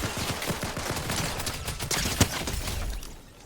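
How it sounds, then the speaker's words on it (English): Gunfire in the Fortnite video game comes as rapid bursts of shots in fairly quick succession, moderately distant and somewhat faint, with one sharper crack near the end. "Looks like someone's shooting at me."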